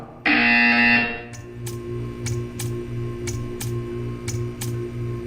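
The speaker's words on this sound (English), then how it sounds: "You will hear a buzzer. When you hear the buzzer, stare at the art." A loud, harsh electronic buzzer in the video game Portal 2 blares for about a second, followed by a steady pattern of soft, regular ticks over a low hum.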